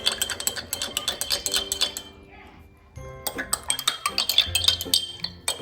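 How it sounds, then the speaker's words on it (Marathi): A metal spoon stirs lemon syrup, giving quick, bright clinks and chinks in uneven bursts, with a short quiet pause in the middle before the rapid clinking resumes close by. "तर आता आपण हे मिक्स करून घेऊयात"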